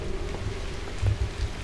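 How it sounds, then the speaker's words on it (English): Rain in a horror video game set in an underground bunker, a steady rush of falling water with low rumbling underneath and a few heavier low thuds, no voices. "that rain scared the crap out of me"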